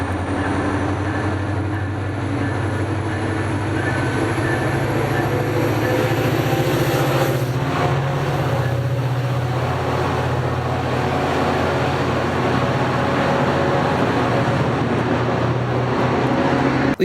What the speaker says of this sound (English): here's the train departing